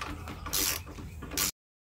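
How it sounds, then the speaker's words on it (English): A T45 Torx bit on an extension loosening the coolant pump bolts on a Harley-Davidson, heard as close, bright metallic ratcheting in two short bursts with softer mechanical handling between, no talking. "get you a T45 on an extension and remove the pump. There's two bolts"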